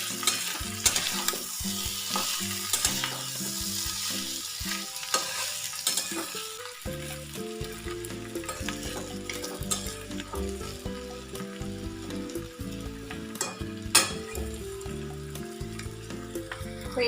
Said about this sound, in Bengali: সামান্য চালের গুঁড়ো দিয়ে একটু নেড়ে তারপরে নামিয়ে নেব।